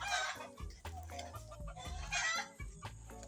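Chickens clucking loudly and close, with several birds calling over each other in rapid overlapping bursts and a rooster crowing among them.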